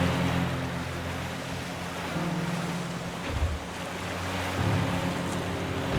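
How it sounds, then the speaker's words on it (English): Boat splashing through water in an underwater-exploration adventure game, a steady rushing wash of surf and spray with a low engine hum beneath, continuous and fairly close, no voices. "such as the boat splashing through the water"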